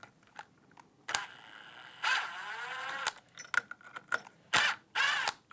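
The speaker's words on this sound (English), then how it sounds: "Next, we're going to remove these 2 screws to get the underlay from underneath" Screws being backed out of the underlay beneath a Steelcase Leap office chair, heard as short bursts of ratcheting, clicking mechanical turns separated by pauses, fairly close and with no talking.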